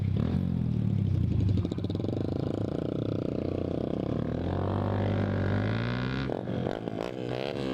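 Honda Grom motorcycle with a loud exhaust being ridden in daytime, a steady droning engine note that rises and falls with throttle, close and continuous, briefly shifting toward the end.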